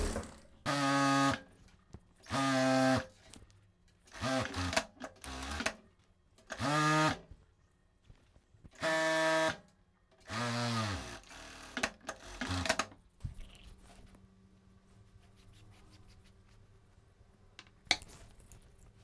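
A sewing machine stitches the short edges of a fabric dress strap in repeated loud, close bursts, each a second or so of humming motor and needle rattle separated by brief pauses, then quieter handling sounds.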